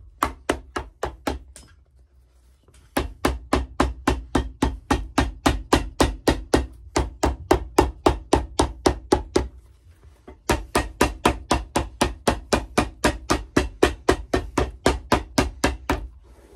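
Steady, rapid hammer blows, evenly spaced and close by, pausing briefly twice before resuming the same rhythm, during shoemaking at a shoe competition.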